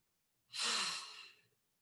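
A single deep belly breath during a yoga session, one slow audible exhale lasting about a second, close and isolated in quiet surroundings.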